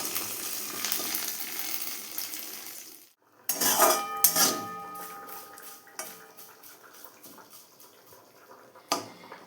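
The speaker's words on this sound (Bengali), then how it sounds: "গ্যাসের ফ্লেম মিডিয়াম করে নিম পাতাগুলোকে উল্টে পাল্টে কড়া করে ভেজে নেব।" Neem leaves fry and are tossed in a pan over a medium gas flame, a soft sizzle followed by a sharp metallic scrape and a string of clinks and taps of a utensil stirring against the pan.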